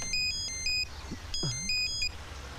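An incoming call's phone ringtone plays a bright repeating electronic melody in two bursts, fairly loud and close, with a brief voice sound between them.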